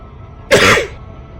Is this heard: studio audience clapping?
no